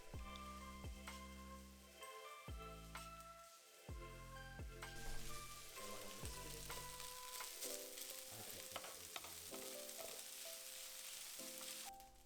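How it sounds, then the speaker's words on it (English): Yakisoba noodles sizzle and crackle in a hot pan, stirred and tossed with a spatula scraping now and then; a steady frying hiss continues throughout. "Frying the noodle this way will give you crispy bits of the noodles."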